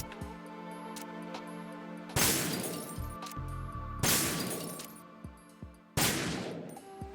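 Objects shattering under gunfire in Metal Gear Solid 2, three loud, sharp bursts of shots with breaking debris at roughly two-second intervals, each decaying into rattling fragments over a low game hum.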